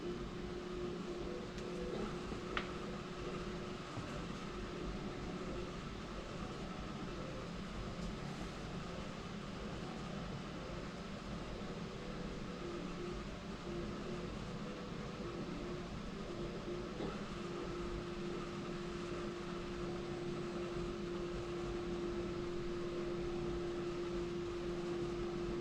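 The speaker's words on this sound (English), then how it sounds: "there's a wheel at the back of the machine that rotates and then pulls the PLA back through the nozzle" An Ultimaker 2+ 3D printer retracts PLA filament as a wheel at the back of the machine turns and pulls it back through the heated nozzle, giving a steady, continuous mechanical whir and hum with no talking.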